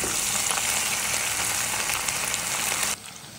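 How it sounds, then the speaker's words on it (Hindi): Garlic and ginger paste frying in oil with browned onions for a turnip curry, a loud, continuous close-up sizzle that cuts off sharply near the end. "इसमें शामिल करेंगे 1 टेबल स्पून लहसुन और अदरक का पेस्ट।"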